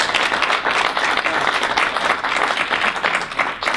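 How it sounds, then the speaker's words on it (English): A round of applause from a startup event audience honouring Academy Award winners: loud, dense clapping from many people, sustained evenly and thinning slightly at the very end. "I think that deserves a round of applause"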